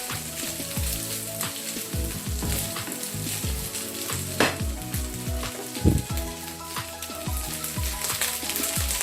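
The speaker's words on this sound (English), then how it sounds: "This is fried rice, so I'm going to fry it like this a bit. Fry it very well." Nigerian fried rice fries in a pan with a loud, steady sizzle, broken by repeated scraping stirs and metallic clinks of a spoon against the pan; no one talks.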